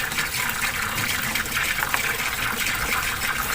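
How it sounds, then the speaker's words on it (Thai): Tap water gushes steadily as fresh herbs and vegetables are rinsed under it in a home kitchen, a close, continuous splashing flow with no voices. "ล้างผักต่อเลยทุกคน"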